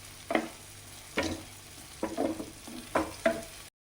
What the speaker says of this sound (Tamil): பட்டர் நல்லா கரையட்டும்.